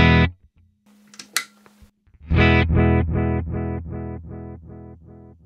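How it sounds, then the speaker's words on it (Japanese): An electric guitar through an amp is struck after a third footswitch on an XSONIC AIRSTEP controller clicks echo on, leaving a distorted chord repeating in a decaying series of about eight evenly spaced echoes. "3番目のスイッチはエコーのオンオフと対応。"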